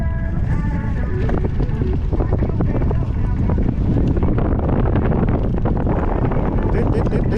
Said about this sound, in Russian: Ветерок дует.